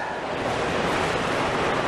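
A waterfall rushes in a steady, even roar of falling water, a dense continuous hiss with no pauses or other sounds.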